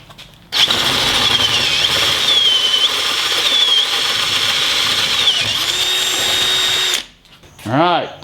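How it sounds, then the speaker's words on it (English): A Hilti SF 10W-A18 four-speed cordless drill bores with a 1/2 inch bit, a loud steady high-pitched whine that runs for about six seconds and then stops, with a short clatter at the end. "let's change this out to a 1/2 inch drill"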